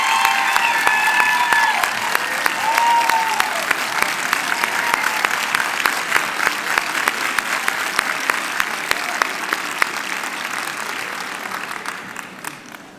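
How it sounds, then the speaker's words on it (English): A crowd applauds at a college nursing pinning ceremony, loud sustained clapping from a large audience with scattered sharper claps and a few brief cheers, fading out near the end. "please stand and give yourselves a round of applause."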